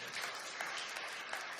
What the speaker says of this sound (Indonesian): Tepuk tangan dulu Pak Gembala